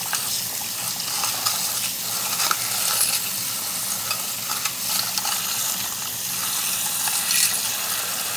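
Water rinsing a jewelry basket from an ultrasonic cleaner, a steady close hiss of running water with light splashes and small metallic clinks.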